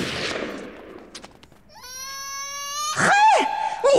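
Sharp gunshot bangs from a Chinese historical drama set in old Peking ring out in a tense scene, with a sudden loud burst standing out over shouting and crying voices.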